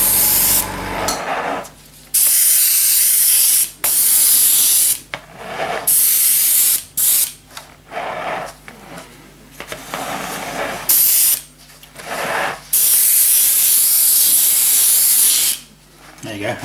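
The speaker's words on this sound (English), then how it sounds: "So I'll clean my airbrush out" An airbrush sprays weathering onto a 7mm Heljan VAA model wagon in loud, close hissing bursts of varying length, separated by short pauses.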